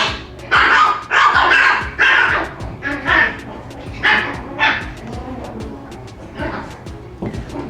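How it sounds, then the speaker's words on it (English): Several puppies bark and yip in quick, overlapping bursts nearby, loud at first and then tapering off into scattered yaps. "the puppies are being a little loud."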